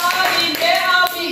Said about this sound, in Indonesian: tepuk tangan untuk kelompok kritik nih